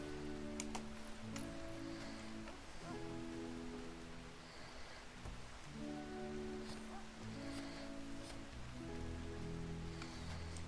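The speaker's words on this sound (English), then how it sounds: "It's a heavy rain." Heavy rain in the colony-building game RimWorld, a steady, even hiss lasting throughout, layered with soft sustained musical tones underneath.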